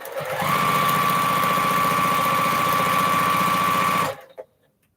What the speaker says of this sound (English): I can just sew it on through. Don't take long, not with this machine